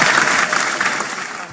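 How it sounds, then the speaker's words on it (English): A short burst of standing-ovation applause from a business-event audience saluting Chief Godwin Okeke, loud at first and easing slightly as it continues. "Let's give a standing ovation to the man"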